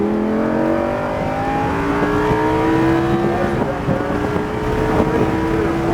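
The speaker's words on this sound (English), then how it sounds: "Squeeze that gas and accelerate down the straightaway" A Lamborghini Huracan accelerates hard down a track straightaway in a high-performance driving experience. The engine tone climbs in pitch through several gear changes, loud and close, with wind noise buffeting underneath.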